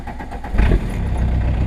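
A diesel truck engine without glow plugs cranks and catches with a short burst, then settles into a steady, low rumbling idle close by.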